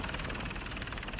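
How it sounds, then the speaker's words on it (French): A helicopter settling in to land at La Napoule, France: a steady, loud rotor and engine drone with a fast pulsing chop, close and continuous with no talk over it. "On va pouvoir se poser, il y a juste la place pour l'hélicoptère."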